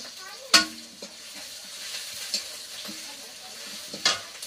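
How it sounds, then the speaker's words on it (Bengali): Pointed gourd and potato going into a pan of hot oil, with sharp sizzling bursts as pieces drop in, a low crackle of frying between them and occasional utensil clinks. "এবার পটল আলুটা দিয়ে দিচ্ছি"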